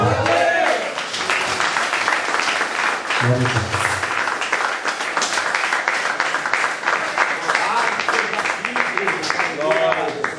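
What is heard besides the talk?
church congregation applauding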